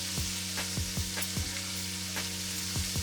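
Ground beef, sausage and green onions frying in a pan, a constant loud crackling sizzle with rhythmic scrapes of a utensil against the pan about twice a second, close by and unaccompanied by speech.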